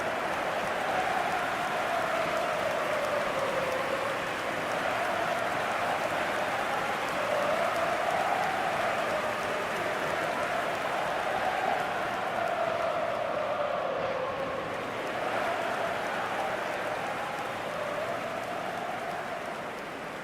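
Stadium crowd in the eFootball video game, a steady dense roar of cheering and noise sustained throughout at constant level, with no distinct individual voices.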